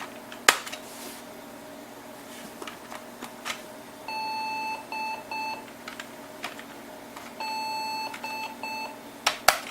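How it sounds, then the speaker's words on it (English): A Macintosh Performa 640CD DOS Compatible sounds its video-not-initializing error beeps, repeated short tonal chimes in bursts over a quiet fan hum with occasional clicks. "So we're getting the whole video not initializing beep."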